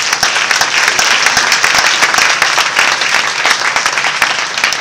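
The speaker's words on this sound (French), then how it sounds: "je voudrais qu'on applaudisse en fait les rapporteurs" Dense, steady applause from a conference audience at an international winter school gathering, many hands clapping together close and loud for the full stretch with no talking over it.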